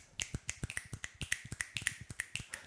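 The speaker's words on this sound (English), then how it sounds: "claps are really loud on podcasts, so what we do instead is we snaps." Crisp finger snaps from a small group on a sports podcast, used in place of applause, about twenty quick snaps in an irregular ripple, close and fairly loud with no talking.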